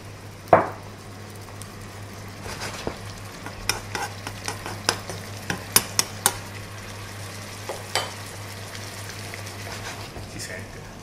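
Vinegar sizzles in a frying pan in a restaurant kitchen in Florence, a steady soft hiss with scattered clicks and clatters of stirring utensils, close, while a person speaks faintly in the background.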